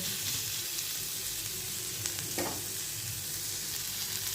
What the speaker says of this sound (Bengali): পেঁয়াজটাকে হালকা করে ভেজে এবারে এতে আদা আর রসুন কুচিটা দিয়ে দিলাম